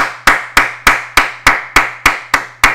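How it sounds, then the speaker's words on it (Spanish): Nine sharp, evenly spaced claps ring out in a steady rhythm, one about every third of a second, each clap identical in strength, with a low electrical hum running underneath and no voices. "un aplauso por favor"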